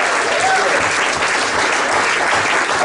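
Audience at a live jazz performance gives a loud, steady round of applause, dense clapping filling the whole moment from start to finish.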